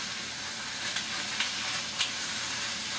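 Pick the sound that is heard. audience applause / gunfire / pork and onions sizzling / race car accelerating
pork and onions sizzling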